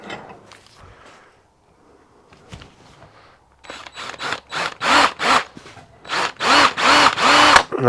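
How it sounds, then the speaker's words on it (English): A left-hand drill bit tries to back out a bottomed-out bolt on an SNNC 363 drive flange. Faint workshop handling comes first, then the drill loudly revs in a quick series of bursts and pauses. "We'll give it a whirl with a left hand drill."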